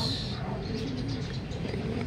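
Pigeons cooing at a club loft during training, soft low coos repeating steadily through a continuous outdoor background, with faint chirps above and no voices.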